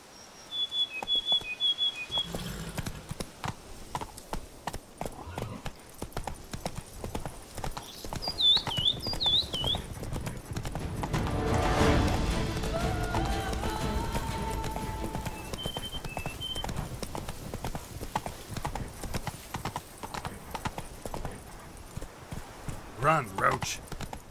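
Horse hooves clip-clop steadily at a gallop across the whole stretch in The Witcher III, with a brief whinny, scattered birdsong and whistles, and a voice speaking over the steady hoofbeats.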